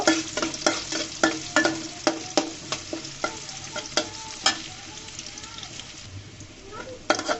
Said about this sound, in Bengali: এই পর্যায়ে আমি পেঁয়াজটাকেও ভেজে নিব।